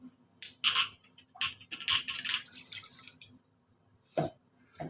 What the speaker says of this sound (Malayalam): വെള്ളം കൂടെ ഒഴിച്ചു കൊടുക്കാമേ